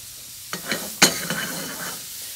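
Pear chutney lightly caramelizing in a pan gives a soft sizzle and stirring scrapes, with a few sharp utensil knocks against the pan rising over a quiet, steady hiss.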